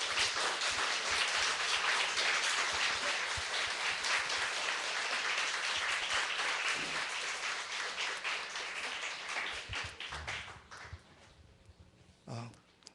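A Sunday church congregation gives hearty, sustained applause for an elder's family coming forward, loud and continuous for about ten seconds before thinning into scattered claps and faint voices.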